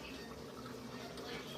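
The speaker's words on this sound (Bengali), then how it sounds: "পানি গরম হয়ে গেছে আর চালটা দিয়ে দিচ্ছে।" Soaked rice for biryani going into a pot of boiling water, heard as a steady close bubbling and filling rush with no clear breaks.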